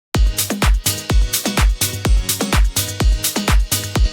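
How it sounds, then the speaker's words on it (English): Short piano chord stabs land in rhythm over a pounding four-on-the-floor drum groove with bright hats, loud and close, with no speech. "let's hear what just the piano sounds like with the drums."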